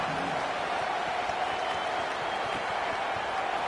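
Home crowd in a college football video game, Oregon against Iowa, keeps up a steady, broad roar of cheering and applause throughout, even and unbroken.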